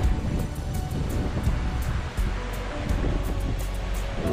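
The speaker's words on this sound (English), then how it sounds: "Love nature, love the water, the creek like this" Creek water rushing steadily outdoors in a Las Vegas-area nature spot, a continuous broadband wash with no pauses, close and fairly loud, mixed with some wind buffeting on the microphone.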